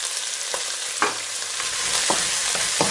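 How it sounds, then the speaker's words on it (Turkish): Tomato paste and pepper paste frying and being stirred in a pan for a Turkish summer vegetable stew with meat: a steady sizzle with a few soft scraping strokes of the spoon, close up, with no voices. "Kavuralım bu malzemeyi."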